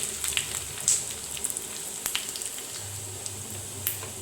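Dried red chillies and curry leaves sputter in hot frying oil, a steady close-up crackling sizzle dotted with sharp pops and spits, with no voices.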